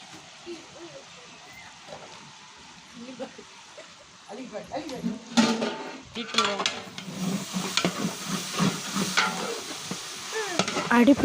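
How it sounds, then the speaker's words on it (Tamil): Mint and coriander leaves being stirred in a pot for Ramadan nonbu kanji, with soft scraping and sizzling that grows busier and louder midway, under a voice talking. "அடி பிடிக்காமல் அப்பப்போ கிண்டி விட்டுட்டே இருக்காங்க."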